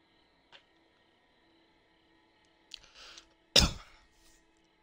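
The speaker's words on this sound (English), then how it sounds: "Why am I coughing?" A person coughs once sharply and close, followed by a brief throat-clearing rasp, in an otherwise quiet room with faint background hum and an earlier small noise.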